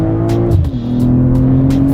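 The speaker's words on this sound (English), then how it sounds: "Launch control active. Here we go." 2023 BMW M340i LCI launching with launch control, a loud close engine held at steady revs then surging as the car pulls away, dense continuous roar throughout.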